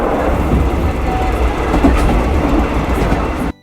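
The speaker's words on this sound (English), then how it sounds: "A train goes along the tracks." A passing train runs along the rails, producing a dense close roar with rhythmic wheel clatter that stays loud and even, then stops suddenly.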